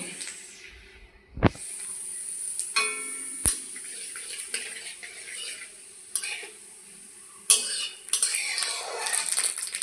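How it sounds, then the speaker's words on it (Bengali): Whole cumin seeds dropped into hot mustard oil in a wok, with quiet crackling and sizzle broken by sharp metallic clanks and scrapes of a spoon against the pan. "তেল গরম হয়ে গেছে। এখন দিয়ে দিচ্ছি 1 চামচ মতো জিরে, গোটা জিরে"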